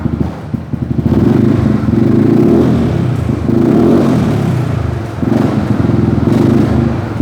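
A 2018 Yamaha X-Max 300 ABS scooter with a muffler silencer insert revs up from idle in a few sustained swells, holding a fairly subdued, steady engine drone between pushes, with no voices.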